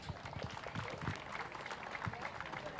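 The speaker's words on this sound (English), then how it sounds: "Let's give these guys a big round of applause." Faint, distant applause from the crowd at a county swine show, a soft steady patter of many hands filling the whole stretch.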